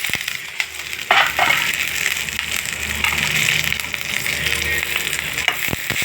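Chana dal, green chillies and garlic frying in oil for an ivy gourd chutney, a steady close sizzle with occasional sharper crackles and stirring scrapes throughout.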